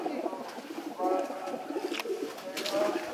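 Fancy pigeons, black and pied birds at a show, coo repeatedly in soft throaty rolls, close and moderately loud, with faint background chatter.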